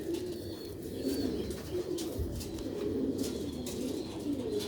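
Pigeons coo repeatedly in low, soft, throaty rolls, several birds overlapping at close range, with faint rustling and no speech.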